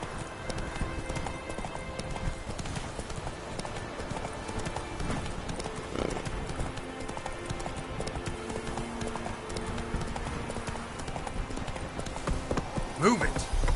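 Roach the horse gallops in The Witcher 3, a steady rapid clip-clop of hooves that runs throughout alongside game ambience and music, with a voice speaking over it.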